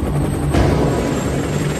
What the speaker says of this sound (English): Four helicopters with team members aboard depart Fort Bliss.